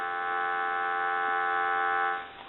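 A steady, continuous dial tone from a Western Electric Trimline telephone hums at even volume, then cuts off abruptly near the end.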